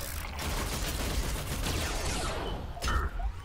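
Gunfire in the shooter video game RIPOUT, a quiet burst of rapid shots blending into a rushing noisy wash, with a sharper crack near the end.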